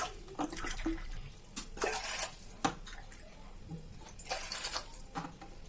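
Water poured from a measuring cup into a cooking pot, four cups in all, heard as several short splashing bursts at close range over a quiet room.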